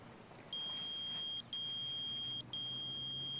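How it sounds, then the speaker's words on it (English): A high electronic beep repeats three times in long sustained tones separated by brief gaps, fairly quiet over faint background noise. "You're beeping."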